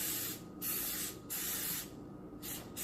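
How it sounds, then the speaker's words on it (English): Canola oil cooking spray hisses out in several close, sharp bursts with short pauses between them, coating a pan for cornbread. "canola oil spray, okay? And we're just gonna spray all the whole entire"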